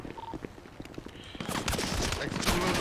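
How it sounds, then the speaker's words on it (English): A burst of rapid gunfire in a South African police role-play video game, a quick fusillade of shots that grows denser and louder toward the end. "Shots fired"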